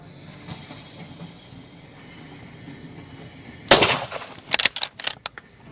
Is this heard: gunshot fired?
yes